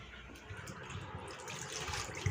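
Water poured into a pan of egg curry with the eggs already added, a steady running, splashing liquid sound at close range throughout, with no talking.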